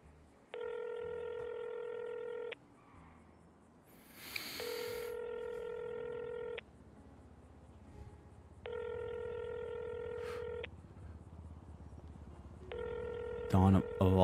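Telephone in a GTA V NoPixel role-play session dialing and ringing: four evenly spaced, loud ring tones with gaps between them, a brief burst of noise after the first ring and a clatter at the very end.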